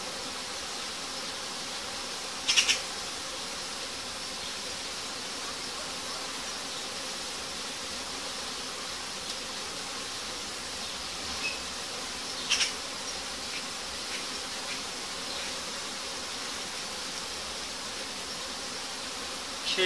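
A steady, close hum of many honeybees buzzing continuously, with a couple of brief louder passes near the microphone.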